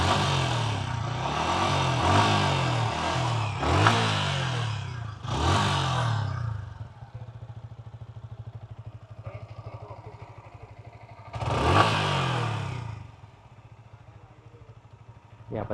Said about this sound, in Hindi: एग्जॉस्ट नोट सुनो, थ्रॉटल भी दे देता हूँ।